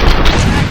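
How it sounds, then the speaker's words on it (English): Rapid gunfire from a firefight in the RoboCop: Rogue City video game, a dense, loud burst of shots filling the whole moment with no pause. "Am I hearing gunshots?"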